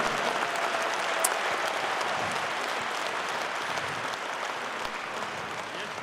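A stormy ovation from a concert audience at a Buryat group's 40th anniversary show as a singer is welcomed; thick, sustained crowd clapping fills the whole stretch at an even, full level with no pause.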